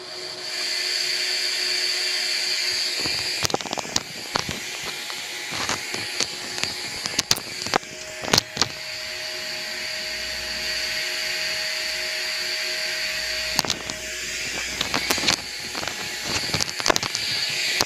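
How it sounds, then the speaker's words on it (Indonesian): A steady broadband pink noise test signal through a Focusrite Scarlett sound card fills the clip, interrupted by occasional clicks and brief bumps; even, constant noise without voices. "Ini adalah bunyi sebuah ping noise."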